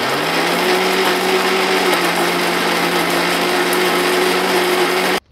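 Old bed cotton being ground in a kitchen mixer grinder, a loud steady motor whine with a constant hum that runs throughout and cuts off abruptly at the end.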